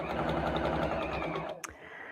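A sewing machine stitches shirring elastic on a skirt, a rapid close mechanical whirring rattle that runs steadily, then stops with a short click.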